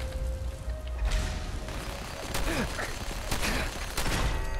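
Rapid turret gunfire in Fallout 4, a burst of mechanical shots with clanks and whooshes at moderate distance over a low game background.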